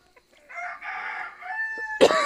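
A rooster crows once in a short, clear call, followed by a sharp cluck from chickens, all close and alone in a quiet farmyard.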